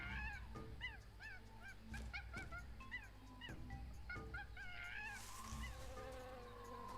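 Jungle bird calls from Tales of Monkey Island repeat as quick chirping and whistling phrases at a soft, steady level over low ambient hum, with occasional thuds and no speech.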